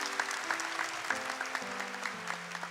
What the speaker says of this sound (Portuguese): Pode aplaudir com fé.